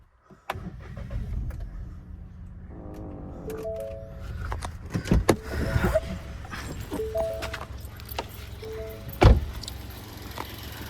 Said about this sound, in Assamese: মই এবাৰ ষ্টাৰ্ট কৰি শুনাই দি আছোঁ আপোনালোকক ইঞ্জিনৰ চাউণ্ডটো